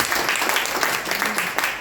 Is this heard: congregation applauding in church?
yes